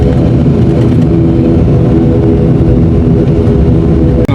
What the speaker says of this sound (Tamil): ஃப்ளைட் ஒன்று மேலே ஏறுது